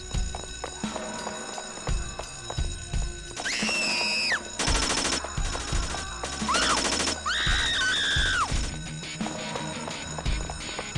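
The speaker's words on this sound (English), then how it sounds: "the gunshots of the gunfire of the submachine guns echo" Rapid submachine gun bursts echo through a panicked crowd, loud sharp volleys of fire arriving in several clusters over a rumbling background, interspersed with crashes and bright alarm-like tones.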